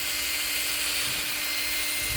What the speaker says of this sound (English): So you got to drill another hole.